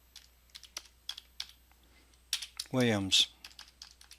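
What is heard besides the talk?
typing a signature on a computer keyboard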